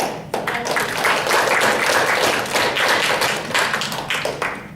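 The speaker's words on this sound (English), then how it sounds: "give another round of applause to our speakers tonight" Audience at a Toastmasters meeting in Almaty applauding the evening's speakers, close and fairly loud clapping that starts abruptly and continues evenly, with some distinct taps and thuds mixed in.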